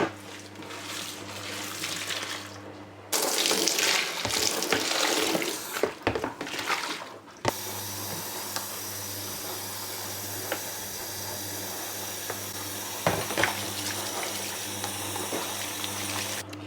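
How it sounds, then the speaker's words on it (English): Water runs steadily from a tap into a sink, a continuous splashing hiss with a brief louder gush partway through, close by and alone. "so I'm going to get rid of that water"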